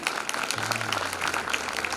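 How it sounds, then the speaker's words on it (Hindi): Steady applause from a theatre audience at a play in Jhansi, India, a dense patter of clapping that holds evenly for a couple of seconds with a low hum underneath. "जोरदार तालियां"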